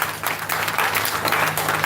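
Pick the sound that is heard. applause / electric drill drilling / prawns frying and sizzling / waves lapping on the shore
applause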